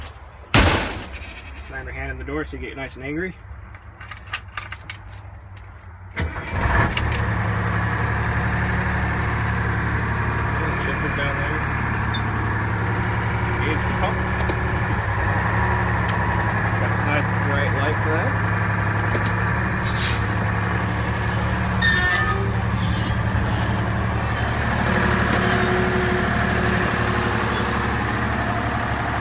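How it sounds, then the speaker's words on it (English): A 1973 Kenworth Hustler's Detroit diesel cranks and roars to life after a short spoken opening, then settles into a loud, steady, rumbling idle that continues unbroken to the end. "Trademark Detroit diesel startup."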